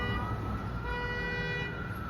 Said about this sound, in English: Look, the fire truck coming from down there.